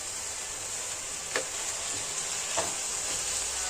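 Food frying in oil in a home kitchen pan, a soft continuous sizzle with a couple of faint stirring scrapes, quiet and without talking.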